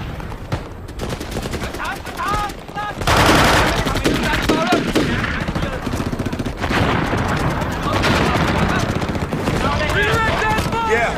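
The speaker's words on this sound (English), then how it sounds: "there's sustained mortar and small arms fire" A war-film battle scene set in Vietnam carries sustained mortar and small-arms fire, with dense rattling bursts and heavy booms running throughout, loud and continuous, while voices shout over the din.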